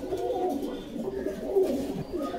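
Pigeons at a pigeon seller's loft in Bogura coo in soft, low, rolling calls that overlap continuously at close range.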